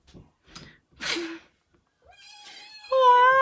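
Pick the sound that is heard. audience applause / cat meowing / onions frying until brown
cat meowing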